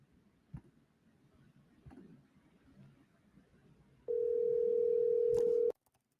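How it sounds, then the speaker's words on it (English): A phone ringback tone sounds while calling a cell phone: one steady electronic tone lasting under two seconds after faint background clicks and room noise. "Should I call your cell phone, Nicholas?"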